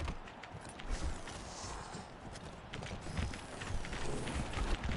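Footsteps in the video game Wasteland 3, a steady run of soft clip-clopping steps over a dense, busy background, moderately loud and with no talk over them.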